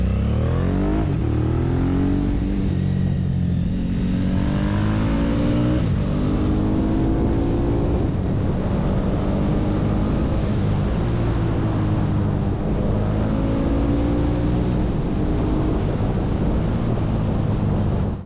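Suzuki DL1000 V-Strom motorcycle from 2005 with a loud, crackling aftermarket exhaust, its engine droning steadily and revving up and down close by, with some wind noise throughout.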